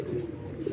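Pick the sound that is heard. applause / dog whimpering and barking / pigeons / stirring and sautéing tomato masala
pigeons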